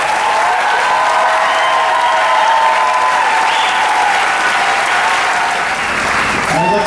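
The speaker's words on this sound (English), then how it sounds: "let's have another round of applause for these troopers here" A big-top circus audience gives the performers a loud, sustained round of applause at the tour's final bows, dense clapping with some crowd voices throughout and a brief cheer near the end.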